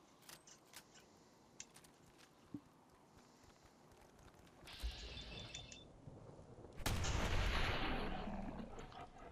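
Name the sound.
shotgun fired at ghouls in the video game Fallout 4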